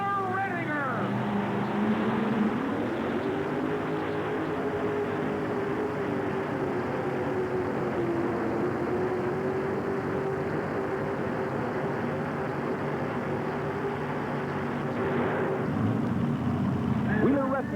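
Loud sustained engine drone from a pulling tractor running two Donovan engines at a tractor pull, the pitch holding steady with a rise near the start and end.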